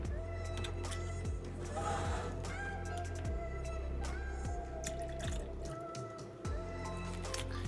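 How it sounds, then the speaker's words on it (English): Barbicide disinfectant trickles and drips into a tray of cold water, a close, continuous wet splashing with small bubbling squishes over a steady low hum. "I'm going to take my barbicide and add a little bit to the tray."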